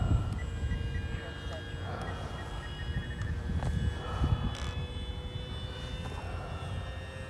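The small engine of a Flite Test Simple Scout XL model airplane drones overhead at a distance, its thin whine rising and fading under steady wind noise and occasional faint voices.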